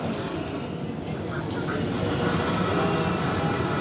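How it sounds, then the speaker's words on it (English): A Lego model train rumbles along its track with a steady whirring hum that grows slightly louder midway, no voices. "Let's move the train."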